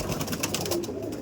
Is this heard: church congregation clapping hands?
no